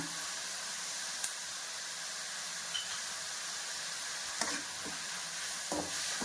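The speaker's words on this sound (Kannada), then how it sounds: "ಶುಂಠಿ ಬೆಳ್ಳಿ ಪೇಸ್ಟ್ ಹಾಕೋಣ" Ginger garlic paste frying in a hot pan for okra stir-fry, a steady close hiss of sizzling oil with a few faint stirring clicks and scrapes, no voices.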